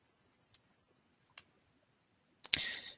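Faint, sparse clicks of a computer mouse on a software button in a quiet room, with a louder, longer rustling burst at the end; no one speaks.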